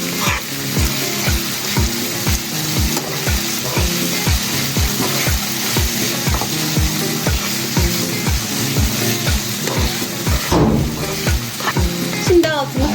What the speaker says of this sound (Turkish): bir kere daha karıştırıp domates sosunu da çekti zaten kıymam iyice kavruldu